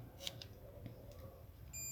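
A multimeter gives a faint, thin continuity beep while probing a shorted Optimo X circuit board. The steady tone starts near the end after a few quiet electronic chirps.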